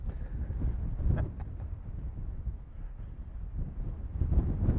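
Strong wind gusting across an open hillside, a steady loud roar of buffeting on the microphone that swells near the end, with no voices.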